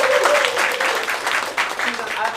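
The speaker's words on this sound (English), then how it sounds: "Susan, can we give a round of applause?" An improv show audience claps in a short burst of applause, with a voice speaking over it.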